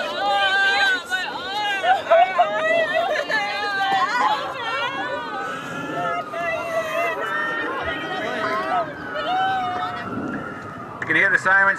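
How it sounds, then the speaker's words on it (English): Emergency vehicle sirens wailing along a street during a staged prom-night crash drill, rising and falling at moderate distance beneath crowd chatter, shouting and distressed voices. "You can hear the sirens coming down the street right now."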